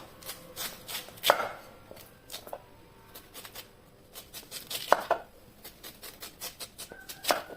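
Sweet potatoes being cut into round slices on a board, a string of sharp irregular knife chops, close and distinct, with no speech.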